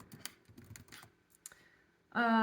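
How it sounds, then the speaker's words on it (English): Someone types on a computer keyboard, a scattering of soft, irregular key taps heard up close, before a brief louder tonal sound cuts in at the end. "Dr. Rubin, I'll just type it in here"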